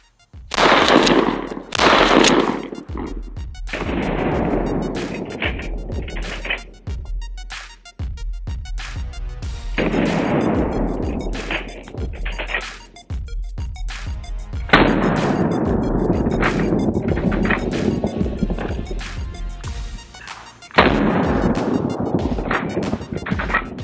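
Challenger 12 gauge mini shotgun shells loaded with buckshot and birdshot are fired outdoors, giving several loud, sharp blasts spaced seconds apart, each followed by a long rumbling echo and wind noise.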